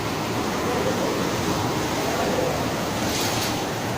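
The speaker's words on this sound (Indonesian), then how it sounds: "Air laut naik." Rising tsunami seawater at Anyer beach in Banten surges in a continuous loud roar of waves and rushing water, with wind-like noise filling the whole stretch.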